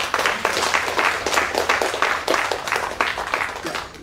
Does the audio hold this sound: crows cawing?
no